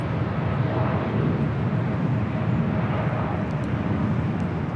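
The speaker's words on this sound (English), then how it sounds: "American Airlines Flight 27 taking off to Tokyo Haneda on the 787-8 Dreamliner" American Airlines Boeing 787-8 Dreamliner taking off from LAX, a loud, steady broadband jet engine roar that holds evenly throughout with no talking.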